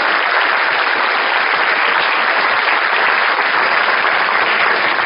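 Church congregation clapping during a Spanish-language sermon, a loud, dense, unbroken wall of applause that holds steady at the same level from start to finish.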